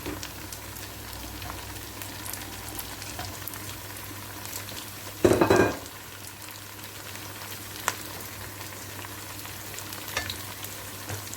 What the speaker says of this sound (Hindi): इसको अच्छे से मिक्स करने के बाद हम इसको थोड़ा सा 2 मिनट अच्छे से भूनेंगे